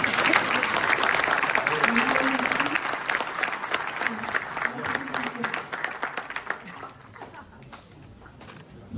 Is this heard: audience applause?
yes